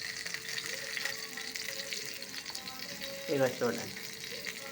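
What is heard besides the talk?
brinjals frying in oil in a pan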